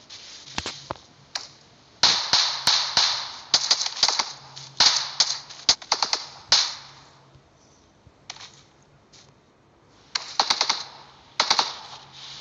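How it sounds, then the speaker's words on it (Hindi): Rapid bursts of gunfire in the BGMI mobile shooter during a sniper-only match, sharp cracks fired in quick clusters with short pauses between volleys, close and loud with no talking. "फायरिंग चालू है।"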